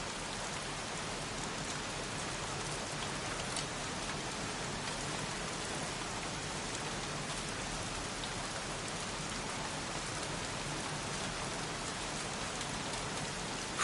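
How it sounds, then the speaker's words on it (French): Steady rain falls in the video game Heavy Rain, an even, continuous wash of drops on surfaces lasting throughout, moderately loud with no talking over it. "Foutue pluie, je suis trempé jusqu'aux os."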